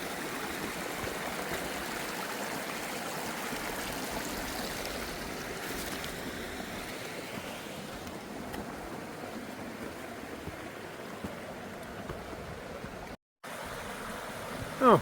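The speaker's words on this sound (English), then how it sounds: "this was the aforementioned waterfalls on the map" A small waterfall and stream on the Appalachian Trail in North Carolina rush steadily, a continuous broadband splashing wash that fills the whole stretch with no talk.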